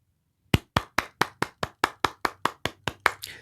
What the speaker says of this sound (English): So a round of applause to Ghanaians.